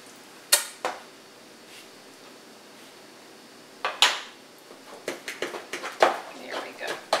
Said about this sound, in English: I'm going to use my fork. And smash up those yolks a whole lot better.